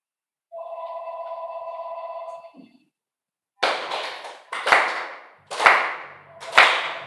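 Four solemn ritual hand claps at a 2021 New Year's Day Shinto-style purification service, sharp and spaced about a second apart, following a sustained tonal chime or bell hum and a short pause.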